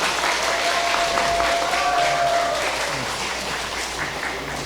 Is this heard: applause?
yes